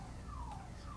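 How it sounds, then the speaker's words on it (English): A car alarm going off, its tone wailing up and down steadily and without a break. It sounds moderately far off over a low background hum. "somebody just set off their alarm."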